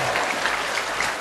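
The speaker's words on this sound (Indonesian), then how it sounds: "Tepuk tangan semua untuk 3 kelompok." A room full of people claps for three groups at a school gathering. The applause is loud, dense and continuous, with no pauses for its brief length.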